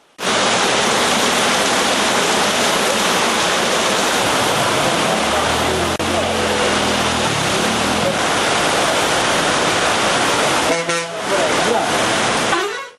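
Heavy, steady rain pours down across Srikakulam district during days of unseasonal downpour, a loud continuous wash of noise from start to finish with a brief dip near the end and a faint horn sounding in the distance.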